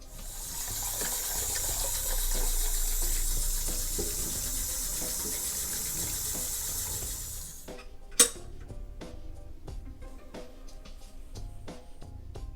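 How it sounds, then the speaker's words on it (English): Basmati rice is rinsed in a stainless steel rice cooker pot under running tap water, a steady gushing flow that stops abruptly, followed by a sharp knock and close wet clicks and swishes of grains being swirled. "I'm going to rinse it a few times"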